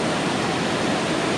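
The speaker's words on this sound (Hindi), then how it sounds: "नाला है, बहुत तेज पानी की धार है" Fast-flowing mountain stream beside the Valley of Flowers trail roars loud and unbroken, a dense close-up wash of rushing water with no voices.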